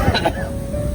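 A person coughs once or twice in a short, close burst at the start, then falls quiet against a steady low background hum.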